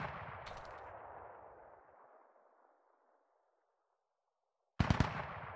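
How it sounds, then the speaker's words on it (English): A burst of gunfire rings out in a squad-based military shooter, a loud volley whose reverberant tail slowly fades into near silence before a sharp second blast breaks in at the end. "someone started shooting"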